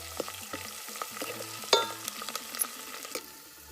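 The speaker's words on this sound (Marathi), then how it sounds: "लसूण कोथंबीर परतून घेऊ चांगली" Finely chopped garlic and cut coriander sautéed in hot oil in a pan, a close continuous sizzle with repeated scraping and clinking of a spatula against the pan, no voices.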